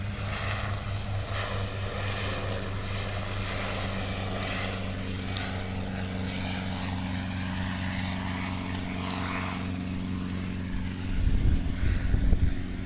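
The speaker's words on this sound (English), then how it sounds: "dudes are messing around an aquatic helicopter" Airboat engine running on a Louisiana bayou near Lake Pontchartrain, a steady loud propeller drone that holds throughout and swells briefly louder near the end.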